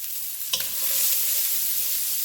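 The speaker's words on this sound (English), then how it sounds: "I'm going to stir fry that." Celery and carrot hit hot oil in a wok with a loud, steady sizzle. A brief clank of a stirring utensil comes early, then the frying hiss carries on, close and bright.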